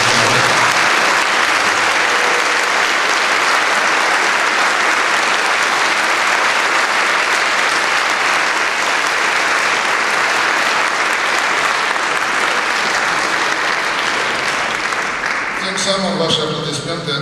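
Long, full audience applause greeting graduates at a conservatory graduation ceremony, a dense, steady roar of clapping that holds evenly before a voice begins to speak near the end.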